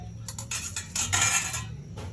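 Vegetables for sinigang, among them green chili, okra, tomato, onion and string beans, dropping into a cooking pot as a run of metallic clinks and clatters close by, with no talk.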